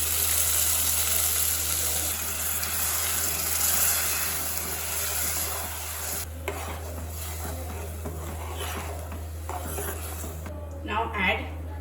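Tomato puree frying with ginger garlic paste in a pan for cauliflower curry, with steady stirring and scraping clatter plus a soft sizzle throughout, a person talking over it.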